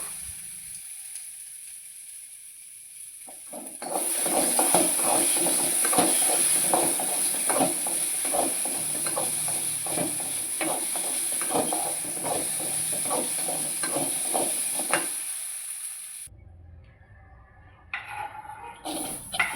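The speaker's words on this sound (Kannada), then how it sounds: "ಇವಾಗ ಬಟಾಟಿ ಫ್ರೈ ಮಾಡ್ಕೊತೀನಿ ರೀ" Potatoes frying in oil in a pan during home cooking of mixed vegetables, a steady close hiss and sizzle with crackling pops that starts abruptly and runs for about twelve seconds before cutting off to near quiet.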